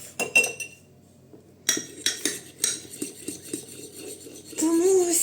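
A utensil stirs a hair treatment mixture in a bowl, making a series of close scraping clinks against the bowl in an irregular rhythm.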